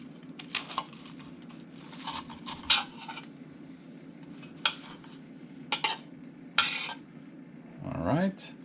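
A knife cuts through a grilled cheese sandwich on a plate, giving a few scattered scrapes and clinks against the dish over a steady fan hum, ending in a longer drawn scraping stroke.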